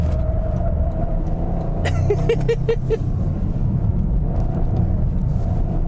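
A 2025 Toyota GR Corolla with an automatic gearbox on winter tires drives through corners, its engine and road noise a steady, loud cabin drone with a brief rattling burst in the middle.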